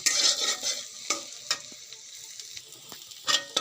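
Chopped garlic and beans frying in a pan for spicy pasta: crackling sizzle with several sharp spatula scrapes and knocks at irregular intervals, loud at first and then quieter, close and without talk.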